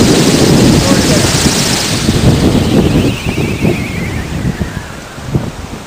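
Strong night wind gusting around a wind turbine, loud roaring buffeting against the microphone with rushing noise that eases slightly midway.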